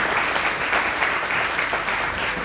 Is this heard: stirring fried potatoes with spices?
no